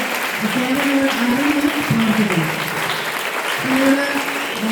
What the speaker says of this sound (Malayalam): ടീച്ചർ എല്ലാവരും ഒരു ക്ലാപ്പ് കൊടുക്കുക ടീച്ചറിന്